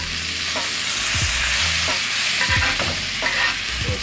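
Rib eye steak frying in butter with garlic, basted in the pan: a continuous bright sizzle with repeated spoon scrapes and clinks against the pan in an uneven rhythm.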